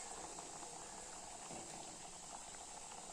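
A pot of coconut-based egg gravy simmers, giving a soft, steady bubbling hiss that is faint and continuous throughout, with no voices.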